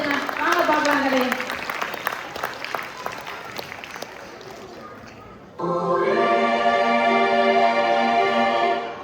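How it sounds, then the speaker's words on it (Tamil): An audience at a school skit breaks into applause, a dense patter of many hands that thins out after a few seconds before a voice takes over with steady speech. "அவர்களுக்கு ஒரு முறை பலத்த கைத்தட்டுகளை கொடுத்து உற்சாகப்படுத்தினார்"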